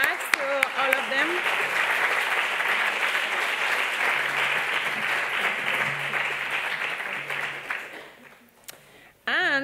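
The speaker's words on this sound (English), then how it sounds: "Please join me with a big applause." Sustained applause from a conference audience for the event organizers, with a brief voice at the start before dense clapping fills the hall and then fades out near the end.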